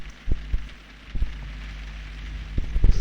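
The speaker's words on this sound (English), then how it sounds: "That rain is annoying" Steady rain falls within the Sherlock Holmes video game, with a constant wash of patter and occasional louder drips or taps standing out close by; no one speaks.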